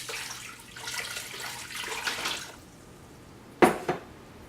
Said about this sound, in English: we will be adding the 2 cups of hot water